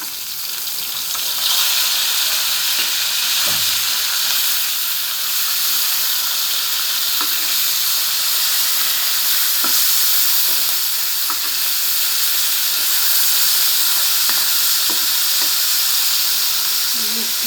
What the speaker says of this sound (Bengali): ইলিশ মাছ আর পটল ভাজি হচ্ছে